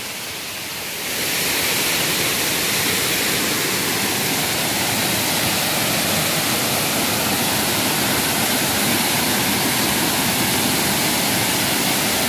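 A wide Konkan waterfall pouring over rock, a loud, close, continuous roar of rushing water that swells up after the first second and holds steady throughout, with no voices.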